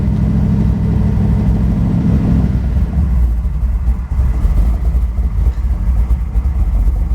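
A car engine fitted with an Edelbrock VRS 4150 carburetor idles with a steady, close, low rumble that holds throughout, slightly lumpy and uneven.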